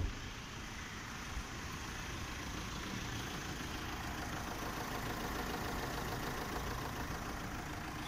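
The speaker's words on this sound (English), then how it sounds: "Let's check out the NVH on outside." A 2019 Tata Harrier SUV's diesel engine idles steadily for the whole stretch, a broad even rumble heard from outside the vehicle, with no voices.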